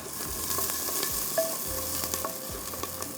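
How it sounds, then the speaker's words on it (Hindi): Onions browning with ginger-garlic paste in a pan give off a continuous hissing sizzle, broken by light taps and scrapes of stirring at a moderate, even level, with no speech. "ये हम इसमें डालेंगे प्याज के साथ। ये प्याज हमारा हो रहा है ब्राउन।"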